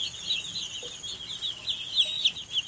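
A batch of about a hundred baby chicks chirps continuously, a dense chorus of high, thin peeps at moderate loudness with no talking.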